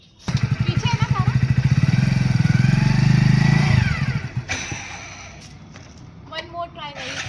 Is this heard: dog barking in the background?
no